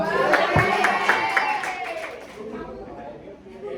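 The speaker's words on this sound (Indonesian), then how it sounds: "beri tepuk tangan" Students applaud in a primary school classroom, a short burst of hand clapping that is loudest at the start and fades within a few seconds, with voices chattering underneath.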